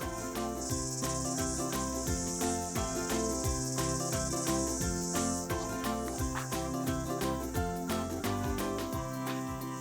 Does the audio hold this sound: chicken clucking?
no